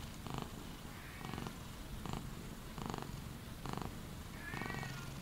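A cat purrs in steady rhythmic pulses close by, each breath cycle rising and falling about once a second, with faint rain noise underneath.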